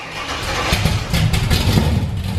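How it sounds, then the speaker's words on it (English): A 1968 Chevrolet Camaro V8 cranks and catches, its engine rumbling steadily and loud at close range with rising revs and no talk over it. "Just start giving it some gas and turn the key."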